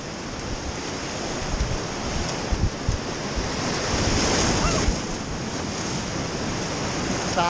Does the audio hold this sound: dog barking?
no